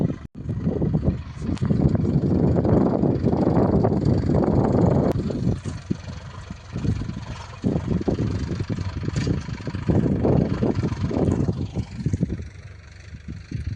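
A tractor engine rumbles steadily nearby while plastering ground with soil, its chugging drone rising and falling with the load for the whole stretch.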